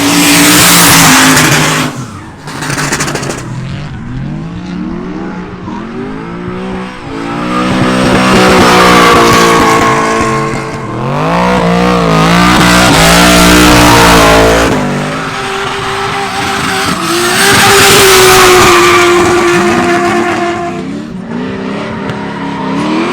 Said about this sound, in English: We're going to hear the toughest cars out on track.